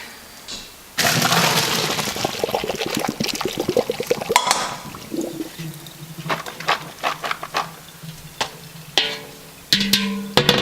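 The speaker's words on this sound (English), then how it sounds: "add your beans to the boiling water all at once" Fresh green beans drop into a pot of boiling water all at once with a loud splashing rush, followed by bubbling, clinks and scattered knocks as the pot settles.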